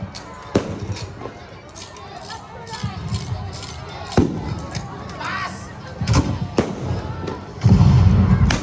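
Battle reenactment gunfire and explosions, with sharp cracks and heavy booms scattered irregularly over a rumbling background, loud and close, and crowd noise mixed in.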